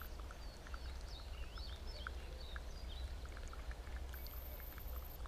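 A small stream trickles and burbles continuously at a river, a faint, steady babble of flowing water with light splashing and occasional bird calls in the background.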